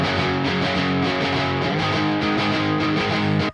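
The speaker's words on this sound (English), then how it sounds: "it sounds like a crackle to me more than like a nice smooth distortion" Electric guitar with stock pickups played through a JCM-style amp simulator into a 5150 cabinet, producing crackly, fizzy distortion on sustained chords, loud and continuous with no talking.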